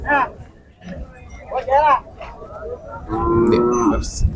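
Cattle and bulls low loudly and repeatedly at close range at the Pebbair livestock market, with a long drawn-out moo near the end and faint crowd noise and voices around them.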